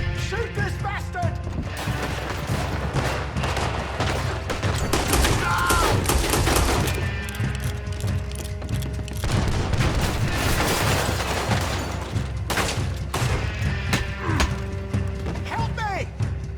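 Dense, loud gunfire from many weapons in Red Dead Redemption 2, with overlapping shots and booms rattling continuously, while voices shout over the shootout.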